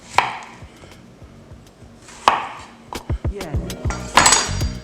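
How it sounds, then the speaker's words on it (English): A knife cuts zucchini halves into sticks on a board, landing several crisp, close chops, first spaced apart and then in a quicker cluster of knocks toward the end. "since this is the fatter end at the bottom, we're going to cut those halves in half"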